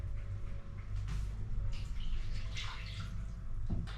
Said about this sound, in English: I'm also gonna add in the same amount of water